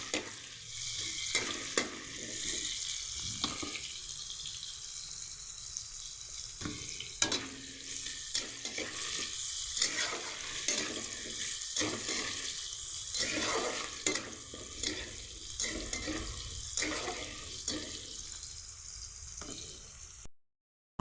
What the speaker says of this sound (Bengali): হালকা করে ভেজে নিলেই হবে